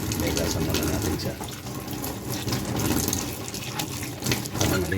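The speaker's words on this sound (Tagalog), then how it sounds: "Hugasan muna natin siya." Tap water runs continuously over onions being washed in a sink, a loud close splashing rush with no break for about five seconds.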